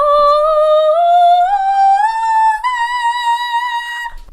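A single voice sings a strained ascending scale, each step rising in pitch up to a tight high note held near the end, solo and close with no accompaniment.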